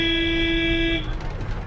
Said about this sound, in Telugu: ఏంటండి పీపీ అని హార్న్ కొడుతున్నాడు పెద్దగా